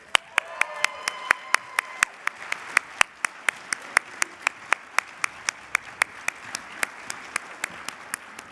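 Rhythmic, evenly spaced clapping at an awards lunch honoring nominees, a steady beat of sharp claps over a thin background murmur, with brief tonal chatter near the start.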